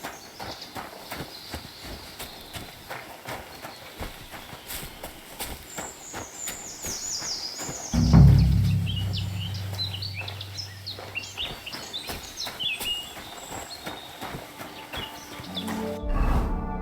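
Hollow hoof clip-clops of a horse walking steadily along a path in the video game Kingdom Come: Deliverance II, with faint bird chirps and a low rumble in the background.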